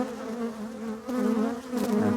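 Honey bees buzz at an opened hive in a continuous close, droning hum that swells slightly as more bees pass near.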